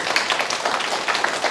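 Audience applause in a theatre during a 1998 stage production, a steady dense wash of many hands clapping, fairly close and continuous with no voices over it.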